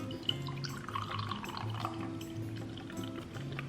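Matcha seltzer energy drink pours into a cup as a steady close liquid stream with light fizzing, running the whole few seconds over a low background hum.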